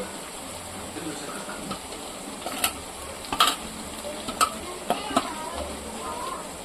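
Tomato pieces and coriander are stirred in a hot pan, a soft steady sizzle broken by a few sharp scraping and clinking strokes of a spoon.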